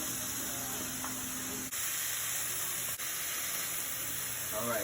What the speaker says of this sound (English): So the mushrooms are cooking nice